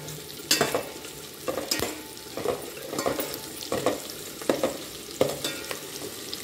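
Ingredients for mint rice fry in a pan with a soft steady sizzle, broken every second or so by sharp scraping stirs of a spoon against the pan, close up.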